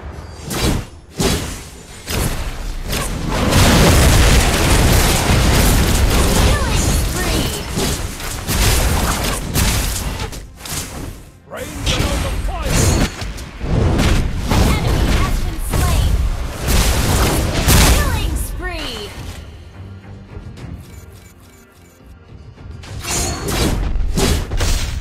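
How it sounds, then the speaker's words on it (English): Explosions, booms and mechanical crashes from a turret being destroyed in a MOBA game featuring Yi Sun-Shin, loud and dense for most of the stretch with a brief lull near the end before the blasts resume. "Your team destroyed a turret!"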